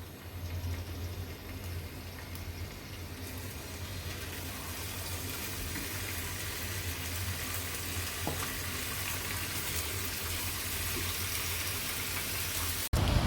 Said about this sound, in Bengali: এবার আমি এগুলো একটি প্যানে দিয়ে ভেজে নিব।